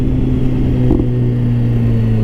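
Steady low exhaust rumble from a 2017 BMW S1000RR motorcycle fitted with a GP Akrapovic slip-on, droning evenly and close with strong low tones and a brief bump in the middle, no talking.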